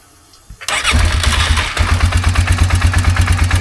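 A 2019 Polaris Sportsman 450 ATV cranks at the key after a ground wire fix on the solenoid, catching quickly and settling into a loud, close, rhythmic chugging idle with no voices.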